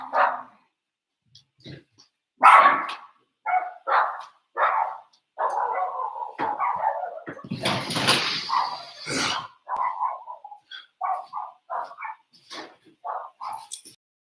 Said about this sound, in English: Let me close this door on this dog.